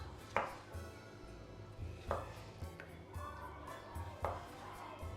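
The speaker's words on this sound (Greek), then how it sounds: "έτσι όπως είναι η μισή ντομάτα, δεν θα το κόψουμε ψηλά, θα το κόβουμε φέτες τέτοιες" A knife cuts slices from half a tomato on a board, giving three or four distinct, fairly quiet thuds spaced about two seconds apart, with soft rustling in between.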